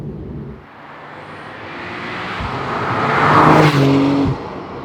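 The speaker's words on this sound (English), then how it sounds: "you're just making the car sound and look as fast as possible on the camera" Porsche 911 on the road to Le Mans, engine rising as it approaches and sweeping past close by, peaking loud before dropping away fast.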